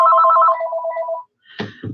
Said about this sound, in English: I just got to turn my phone off.